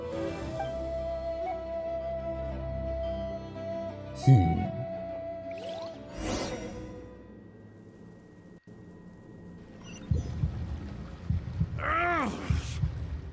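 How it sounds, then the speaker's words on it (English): A heartbeat effect in the Genshin Impact video game gives low, soft thumps under sustained musical tones, broken by a few sweeping whooshes and louder swells toward the end. "A heartbeat."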